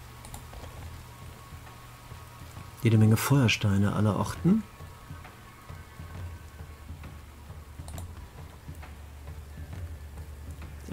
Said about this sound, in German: Das ist nicht schlecht, obwohl es gerade regnet.